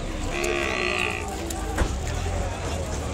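Cattle lowing at an outdoor Ongole bull market in Kodada, with one clear moo early on over a steady crowd hubbub and nearby chatter.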